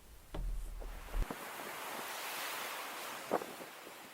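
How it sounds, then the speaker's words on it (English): A chilly breeze blows off a beach while surf washes ashore at Kessingland, a faint, continuous rush of wind and waves with a few brief gusts buffeting the microphone. "Weather conditions are similar as before, with a chilly breeze off the beach."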